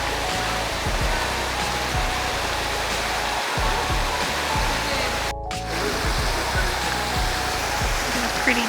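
Waterfall at Triple Falls in North Carolina, a steady broadband rush of falling water that stays loud and unbroken throughout, with low thumps and handling bumps mixed in.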